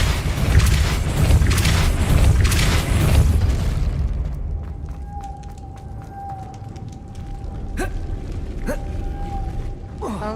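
In Hogwarts Legacy, a Depulso spell lands with a heavy booming rumble that dies away after about four seconds, leaving creaking mechanical clicks, a steady hum and scattered ticks.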